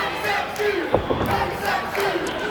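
A wrestling crowd at a New Era Wrestling show cheering and shouting during a headlock, a dense roar of many voices with rising yells and whistles, continuous and loud throughout.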